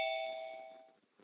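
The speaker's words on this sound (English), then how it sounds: "I think Vapin Trucker just likes to hear the doorbell." A doorbell gives a single clear ding-dong chime that rings out and fades over about a second, heard alone.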